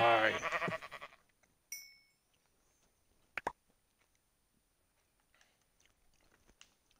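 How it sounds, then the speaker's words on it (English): A sheep in the Minecraft video game lets out a short, loud bleat up close, followed by a sharp hit sound and scattered faint clicks over near silence. "Ah! A sheep."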